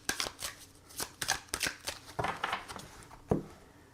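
Oracle cards being shuffled by hand, a run of quick crisp riffling bursts with short pauses between them, close and moderately quiet, no talk.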